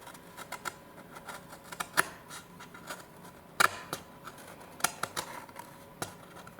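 Cutting the wing of a violin f-hole on a late-1800s violin under repair: small, crisp knife clicks and ticks in an irregular run, close and fairly quiet.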